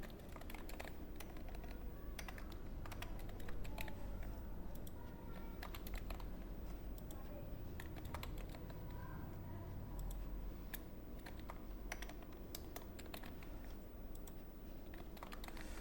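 Quick, irregular clicks of keys on a computer keyboard as a last name is typed into an Excel spreadsheet, faint and close, with short pauses between bursts and no voices.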